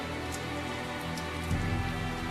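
Steady rain falls in the video game Tales of Zestiria, a constant soft hiss that swells slightly louder partway through, with no voices over it.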